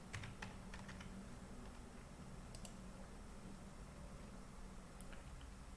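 Steady keyboard typing on a computer, quiet and continuous with soft rapid key clicks over a low room hum, no talking.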